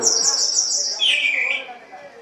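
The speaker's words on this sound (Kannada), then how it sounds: "ಕೋಗಿಲೆ ಮಧುರಗಾನ" A cuckoo sings outdoors in a rural morning setting, a loud, close, high whistled call that slides downward, heard alone.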